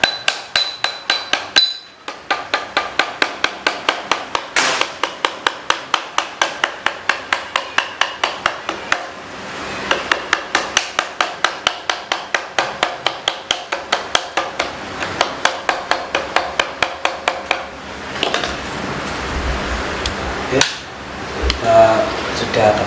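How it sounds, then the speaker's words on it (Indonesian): A hammer taps a part gently while a PCP double-tube Black Army Viper air rifle is assembled, making a long run of quick, evenly spaced light knocks close up, pausing briefly before ending in scattered handling sounds. "kita pukul pelan saja biar tidak merusak bagian pada senapan"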